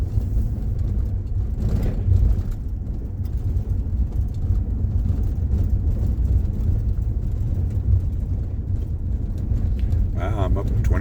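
A van rolling slowly, around 20 miles an hour, along a bumpy dirt road on the Thumb Butte Loop, with a steady close engine rumble and road noise throughout and a brief clatter near the end.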